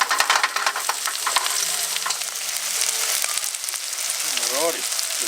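Half an onion and garlic sizzle in hot oil in a pan, a bright steady frying hiss with stirring scrapes and clatter near the start, close and fairly loud, with a brief voice near the end.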